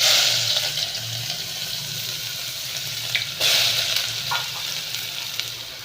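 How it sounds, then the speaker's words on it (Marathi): Onion fries in hot oil in a pot, a steady close sizzle with a low bubbling undertone and a brief louder flare partway through. "तेल तापलंय छान असं मस्तपैकी. कांदा घालते"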